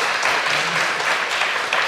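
An audience at a live prehistory podcast recording applauds in a steady, dense wash of clapping that holds evenly throughout without pause.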